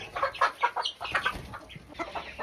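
Backyard chickens clucking and murmuring close by, a steady run of short overlapping clucks with no talk.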